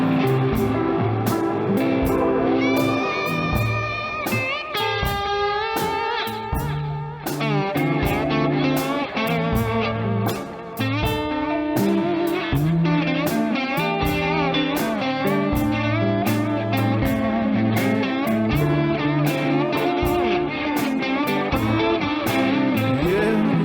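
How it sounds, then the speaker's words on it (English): Slide guitar played through a pedal board with two studio compressors, tape delay and reverb rings out in a continuous, sustained melodic passage with gliding notes and echoing repeats, loud and up close with no talking. "I just kind of set up a little bit of tape delay and some reverb on the slide rig"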